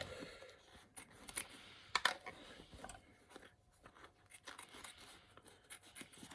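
Scissors trimming excess material from a bag after a Dirt Devil handheld vacuum dust test, a few quiet close snips and crinkles.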